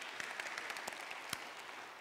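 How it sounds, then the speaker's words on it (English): Faint audience applause for a Lutheran pastor, a quiet, distant bed of scattered clapping with a few sharper individual claps standing out. "A round of applause to our Lutheran pastor."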